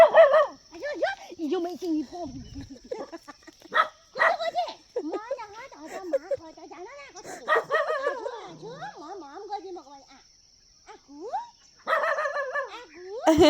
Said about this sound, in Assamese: দেখিলে নহয় মালাবা কুকুৰটোৰ লগত কিছু ধেমালি